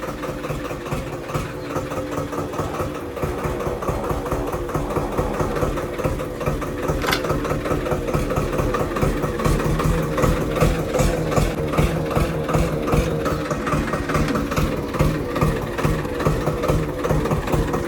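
A tractor engine idles close by with a steady low, throbbing chug, its rapid regular pulses continuing for about eighteen seconds and growing slightly louder partway through.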